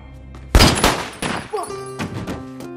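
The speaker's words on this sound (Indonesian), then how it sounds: "Adegan itu kemudian berubah menjadi tembak-tembakan singkat," A loud gunshot cracks out in a film shootout, followed by a few quicker bangs and thuds in a short burst, with ringing tones and clatter under them.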